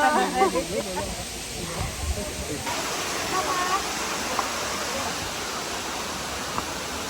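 Malog Falls in Cebu pours steadily, a dense, hissing wash of falling water close by that carries on without a break, with voices talking over the early part.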